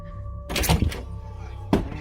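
A door rattles and thumps as someone forces it from the other side, with a burst of heavy thuds followed by one more sharp knock after a short pause, close and loud indoors.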